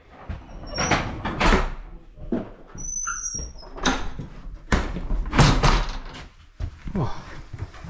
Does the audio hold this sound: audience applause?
no